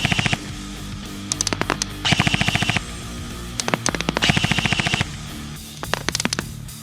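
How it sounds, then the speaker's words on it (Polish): Double Eagle M907E airsoft replica firing full-auto bursts outdoors, loud and close, with several rapid mechanical strings of shots separated by short pauses. "A jeszcze strzelimy na auto i zobaczmy, co to będzie warte."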